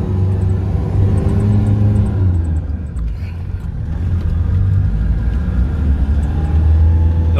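A Toyota Hilux in low-range 4x4 climbs a slope, its engine holding a loud, steady rev near 3,000 rpm with a deep rumble, easing briefly midway and then pulling up again.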